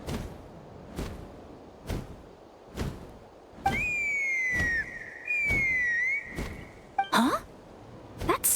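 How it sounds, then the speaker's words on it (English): In a video game, a whistle sounds in two long, clear, slightly wavering blasts amid regular rhythmic thumps, followed by a brief rising squeal, with no talking. "Huh? That sounded like a whistle."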